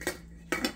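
A metal pudding mould being closed in a home kitchen, giving two short, bright metallic clanks about half a second apart, close and fairly loud with nothing else around them.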